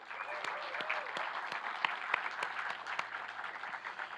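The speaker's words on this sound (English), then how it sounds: "Let's have applause for them too." Steady applause from an audience, a dense patter of many hands clapping with a few sharper claps standing out, lasting several seconds.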